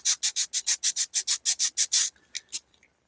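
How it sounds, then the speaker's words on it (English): Rapid back-and-forth rasping of sandpaper on wood, about a dozen quick even strokes, close and loud, then a few slower strokes trailing off. "I think that's the best as far as sanding is going to go."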